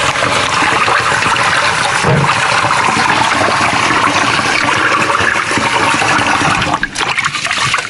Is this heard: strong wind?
no